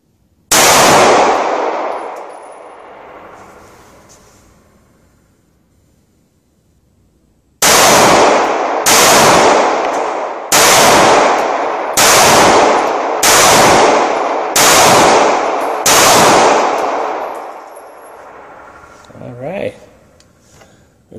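A pistol is test-fired with repaired Star BM magazines: one loud shot with a long echoing decay, a pause, then six evenly spaced sharp shots ringing outdoors, followed by a brief voice.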